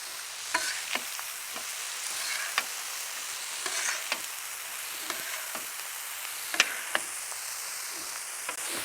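Pork loin sears on a gas griddle with a steady, fairly quiet sizzle, punctuated by scattered sharp spatter pops and the occasional scrape, and no voices.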